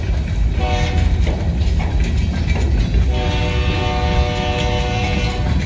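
A train led by two locomotives passes close by with a steady, loud roar and clatter of rail cars, with horn-like tones sounding intermittently over the continuous rumble.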